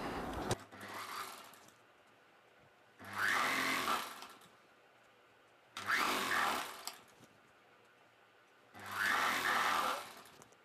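Sewing machine stitching a double-folded hem on a long dress, four separate bursts of rapid whirring stitching, each lasting about one to two seconds, with quiet pauses between them; close and alone.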